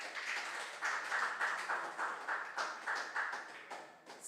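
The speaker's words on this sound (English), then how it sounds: "Let's give them a big round of applause" Applause from an audience at a regional junior science and maths quiz in Greater Accra: a moderate, fairly sparse patter of clapping with a slightly pulsing rhythm, no voices over it.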